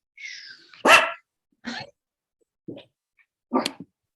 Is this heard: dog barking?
yes